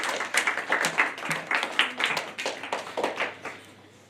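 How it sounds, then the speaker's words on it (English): A school audience gives a polite round of applause before a student marionette presentation of Rapunzel, with clustered, fairly close handclaps fading out toward the end. "polite round of applause for"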